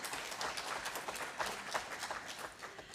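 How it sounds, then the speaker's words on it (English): Audience applause for volunteers at a community center talk, a fairly faint, dense patter of many hands clapping steadily throughout. "Could we give them a round of applause?"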